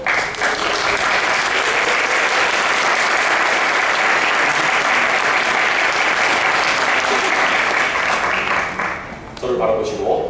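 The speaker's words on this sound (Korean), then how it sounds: "신랑은 신부에게 입맞춤 해주시고 여러분 박수로 축하해 주시기 바랍니다." Wedding guests in a church ceremony break into loud, sustained applause, a dense crowd clapping continuously for several seconds before it thins out near the end.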